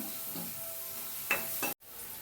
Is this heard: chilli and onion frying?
yes